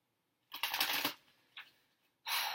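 Tarot cards are shuffled by hand in bursts: a long riffling flurry, a short pause with a brief flick, then a fresh burst at the end, close and clear with no talking.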